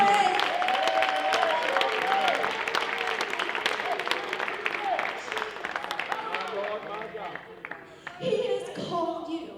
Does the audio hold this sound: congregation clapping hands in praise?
yes